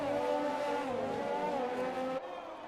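Race car spinning out during an F1 2020 video game race: a loud, steady engine drone with smooth pitch swells that cuts off sharply near the end, leaving a quieter tail.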